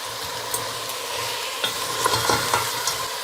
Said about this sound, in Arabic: هنزل بالبصل وهقلبهم مع بعض